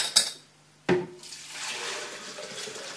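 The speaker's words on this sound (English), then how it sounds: "I'm going to pour it back, and pour it back into the Vitamix jug." Homemade almond milk pouring back into a Vitamix blender jug: a brief splash, then a second splash followed by a steady liquid trickle that tapers off, close and fairly quiet.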